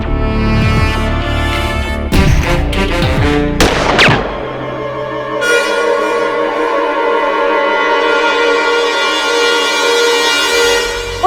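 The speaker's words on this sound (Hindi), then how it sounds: "और गोली चलाओ" A burst of sharp gunshots, several rapid bangs close together, followed by steady dramatic music ringing out.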